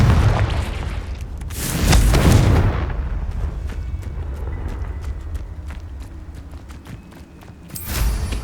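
Loud Confringo blasting-spell explosions in Hogwarts Legacy, two heavy booming bursts with a rumbling tail, then a rapid ticking patter, and another blast at the end.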